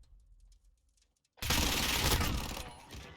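Gunfire in the Warzone video game: after a brief quiet stretch of faint movement, a loud, dense burst of rapid automatic shots erupts and continues steadily to the end.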